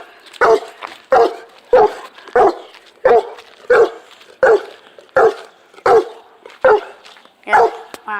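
Dog barking repeatedly outdoors in an alleyway, about a dozen loud, evenly spaced barks in a steady rhythm, close by, with no talk over them.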